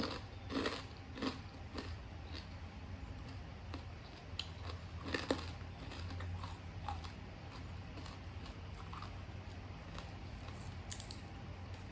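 Someone eats crispy pork rind (khaep mu) alongside papaya salad, giving repeated close crunchy bites and chewing crackles at an uneven pace over a low steady background hum, with no speech.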